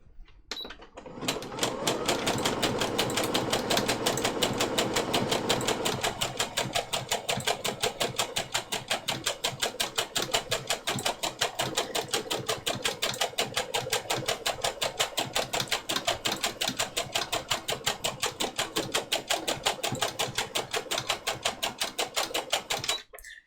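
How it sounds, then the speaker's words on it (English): A sewing machine stitches at speed in rapid, even needle strokes, the pace holding fast and steady after a brief start, close and loud throughout. "one of the things I love about the sewing machine, it just has straight up speed control"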